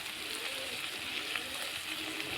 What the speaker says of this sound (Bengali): মশলাটা নাড়াচাড়া করে নেব